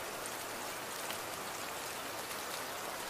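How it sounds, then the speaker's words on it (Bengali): Rain falling steadily through a bamboo grove, used as a sound effect in a Bengali horror animation; a dense, even hiss of drops continues without a break and with no voices. "বাঁশ গাছের ভেতর বৃষ্টিটা একটু কম"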